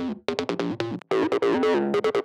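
Acid synth melody in the TB-303 style: a string of short, buzzy, resonant notes in a choppy rhythm with brief gaps, heard alone.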